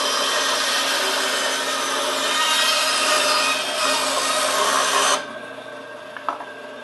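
A bandsaw resawing a board, giving a continuous close buzzing cut for about five seconds, then dropping abruptly to a quieter idling blade hum with a brief knock near the end.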